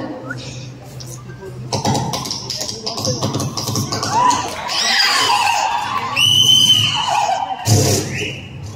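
A person imitates a horse, letting out drawn-out whinnying neighs after some talking, with background voices around.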